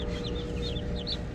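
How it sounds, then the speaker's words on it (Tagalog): A flock of 45-day-old chicks kept behind a sink peep steadily. Several high, sweeping chirps overlap close by against a constant low background hum. "Yung dala naming 45 days na sisiw, dito ko po nilagay."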